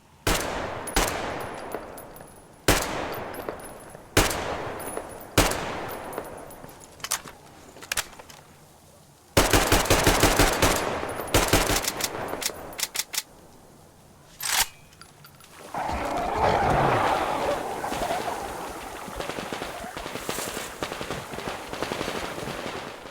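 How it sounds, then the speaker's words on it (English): Bursts of rapid automatic gunfire with sharp single shots between them in the video game Metro Exodus, loud and close, some volleys echoing and others sounding more distant and muffled. "They look and sound more like real guns now."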